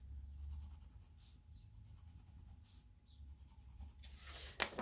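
A pencil scratches lines onto drawing paper in several short strokes, faint and close, with quiet pauses between them.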